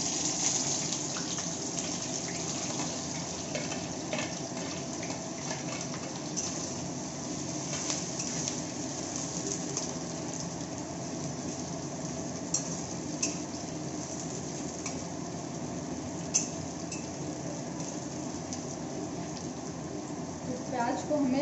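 Steady crackling and sizzling of onions and a bay leaf frying in hot oil for chicken biryani, a dense hiss with scattered pops, continuing evenly throughout.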